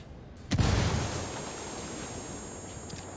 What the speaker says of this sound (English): There's a stockpile. Let's take it out. Frag out.